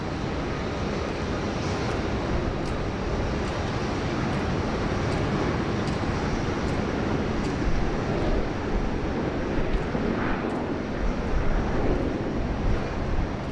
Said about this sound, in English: here comes our Atlas Air freighter. Yes, she did use a lot of runway then.